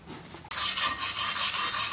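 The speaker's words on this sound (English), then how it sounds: "It's a stainless steel wire brush, and I've only used it on aluminum." A stainless steel wire brush scrubs aluminum stock clean before TIG welding, starting abruptly after a quiet half second and continuing as a loud, steady bristly rasp with rhythmic back-and-forth strokes, close up and without talk.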